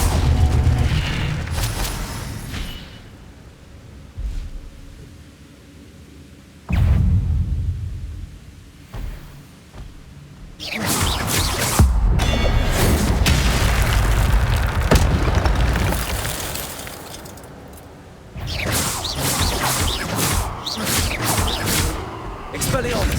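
Spell effects for fire casting and disarming from Hogwarts Legacy, heavy booming bursts and fiery whooshes recurring through the stretch, loud and close, with a voice calling out between blasts.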